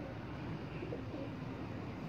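A pigeon cooing softly, low and faint beneath a constant background hum.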